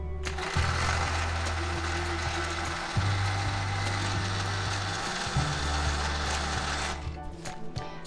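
Sewing machine winding thread onto a bobbin spool, a steady loud motor whir with a continuous mechanical hum that shifts pitch slightly a few times before stopping near the end.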